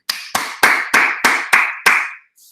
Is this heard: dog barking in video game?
no